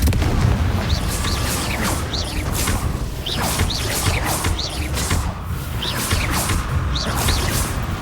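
Repeated Confringo fire-spell blasts in the Hogwarts Legacy video game, each a booming burst with a swooshing whoosh, several going off in quick succession over dense, loud battle noise.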